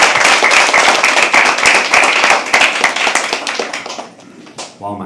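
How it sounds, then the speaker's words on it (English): Audience applause at a live poetry open mic, dense and loud clapping that fades out over the last second as a voice begins speaking. "So can you please have another round of applause?"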